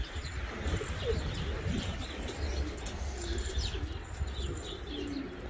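Pigeons in a loft coo softly alongside faint chirps and wing flutters, with a steady low rumble of wind in the background.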